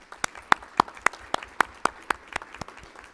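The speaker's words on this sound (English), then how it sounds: "I think our principals deserve a round of applause as well." Sparse clapping at a school board of education meeting, a small group producing distinct, separate hand claps in an uneven rhythm, fairly close and moderately loud with no talking.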